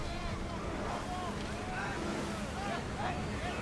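Warship rowed at speed through the sea in Assassin's Creed Odyssey, a steady loud wash of water and wind around the hull with voices talking over it throughout.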